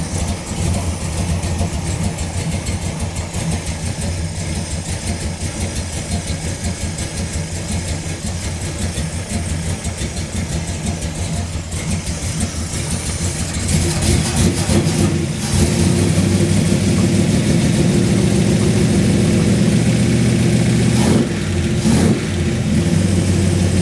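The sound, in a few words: Plymouth Road Runner engine idling after raising fuel pressure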